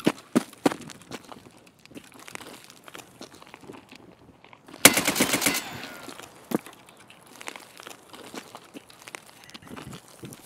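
Gunfire in Escape from Tarkov, a sudden loud burst of shots in the middle of the stretch, set among scattered clicks, footsteps and rustling from the game.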